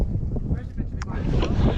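Cold mountain wind on the Everest Base Camp trek buffets the microphone in low rumbling gusts, loud and close, with a voice speaking over it.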